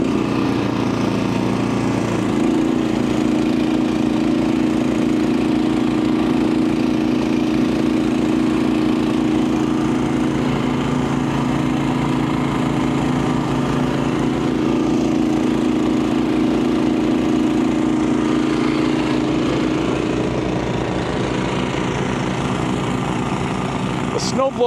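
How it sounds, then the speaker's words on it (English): A Honda HSS1332 ATD snowblower engine runs on its own, a loud, steady, close droning hum that holds without a break for the whole stretch. "The snowblower is running itself."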